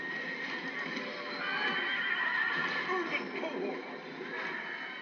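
Horses whinny and neigh amid clip-clopping hooves as chariots charge into a large siege battle in a video game, a busy, continuous din with a voice talking over it.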